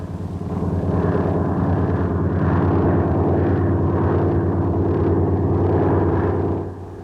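Continuous rotor and engine roar of an early Hiller helicopter flying without a tail rotor, heard on an archival newsreel; steady and fairly loud throughout, fading slightly at the end.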